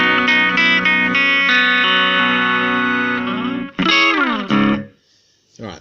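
Electric guitar played through a Nux MG200 amp simulator with no cabinet simulation, giving a thin, tinny, effects-laden tone; sustained chords ring for several seconds, then a couple of sharp strums follow before fading out.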